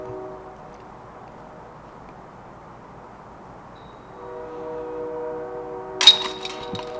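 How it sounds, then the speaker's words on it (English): A train rolls past in an open setting at a disc golf course, a steady mechanical rumble with sustained horn-like tones that swell near the end, topped by a brief sharp metallic clank. "There's a train going by."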